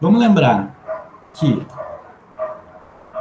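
A dog barks outside, a few separate barks at a distance, heard under a man giving a lecture indoors.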